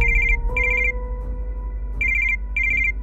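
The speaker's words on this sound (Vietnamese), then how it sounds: "Ông Tài nghe điện thoại của ai mà lén lút thế nhỉ?" A telephone rings loudly with repeated electronic trilling bursts in a steady pattern, with gaps between them over a low background hum.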